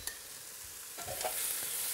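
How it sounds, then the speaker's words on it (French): Aromatic vegetables and sliced leeks gently sautéing in a stainless steel saucepan, a quiet steady sizzle with soft stirring scrapes near the end. "je fais bien revenir la garniture aromatique, surtout sans trop la colorer"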